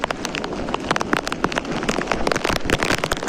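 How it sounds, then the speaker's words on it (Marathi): Dense patter of heavy rain striking a surface by a river, many sharp overlapping drops in a fast irregular rhythm, close and fairly loud. "पाऊस लय आलाय"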